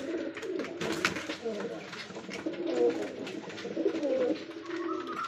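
Pigeons cooing in a pigeon loft, soft repeated throaty coos and low bubbling calls at close range, continuing throughout with some rustling and someone talking intermittently in the background.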